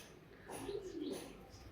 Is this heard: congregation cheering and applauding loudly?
no